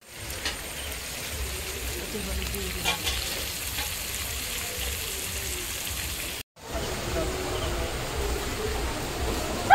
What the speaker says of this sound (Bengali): এখানে কলা ভাজা হচ্ছে